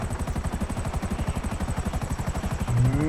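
Helicopter in the video game GTA 5, a steady rapid rotor chop beating loud and close throughout, with engine whine above it and a brief rising tone near the end.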